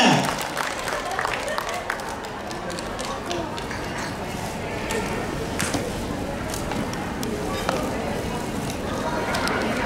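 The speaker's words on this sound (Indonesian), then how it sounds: "Tepuk tangan yang meriah untuk anak-anak kita semua" A crowd at a school parenting seminar claps for the children after their regional dance, with dense, steady applause running throughout and a busy spread of hand claps and murmur.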